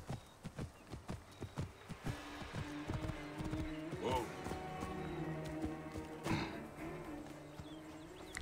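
A horse's hooves clip-clop at a steady walking rhythm in a video game, close and distinct at first, then blending into ambient game sounds while someone talks over them.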